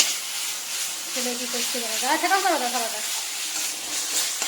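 Potatoes and soybean chunks for a vegetable curry sizzle and fry in a pan, a steady hiss throughout with a voice speaking over part of it.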